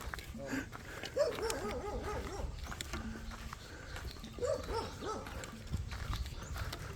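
Outdoors on a warm morning in Dauin, Philippines, a dog gives short barks and whimpers in two brief bursts over a noisy street background, with people talking nearby.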